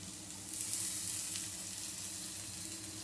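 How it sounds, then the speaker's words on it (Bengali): Chopped whole tomato tipped into lightly fried onions in hot oil for a mango-leaf fish masala curry, giving a steady close sizzle with a small surge as it lands, then continuous frying hiss. "এবারে আমি এর মধ্যে দিয়ে দিচ্ছি কেটে রাখা একটা গোটা টমেটো"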